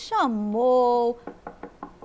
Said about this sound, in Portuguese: bateu na porta, mas ninguém abriu.